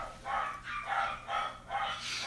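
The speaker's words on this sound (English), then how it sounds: "I'm hearing a lot of dog barking upstairs," Dogs barking upstairs in a home, four or five muffled barks in a steady rhythm, heard through the ceiling at moderate distance and fairly faint.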